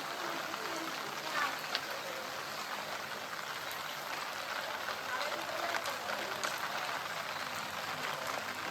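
A river runs with waves after heavy rain, a steady broadband rush of flowing water heard from close by, continuous and fairly quiet throughout.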